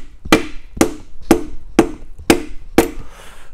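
A hammer handle taps a piston with rings through a ring compressor into a Ford Model A engine block: six evenly spaced, sharp knocks about half a second apart, loud and close, with nothing else heard.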